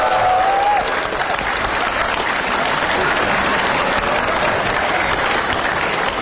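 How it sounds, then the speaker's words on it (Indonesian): A large studio audience claps loudly and continuously to welcome a guest named Soeharta on stage, dense steady applause filling the whole stretch with no voices rising above it. "Langsung saja kita berikan tepuk tangan yang meriah untuk Bapak Soeharta."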